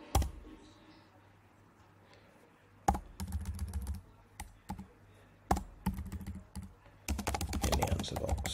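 Bursts of typing on a computer keyboard, close and clicky, arrive in several quick runs separated by short pauses over a faint low hum.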